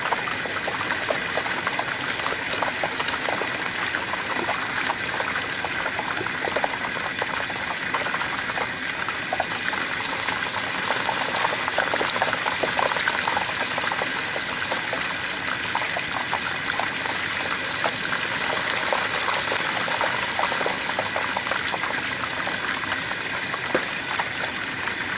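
A turkey is lowered into a pot of hot frying oil, which bubbles and sizzles steadily and loudly throughout with a constant dense crackling hiss and no talk.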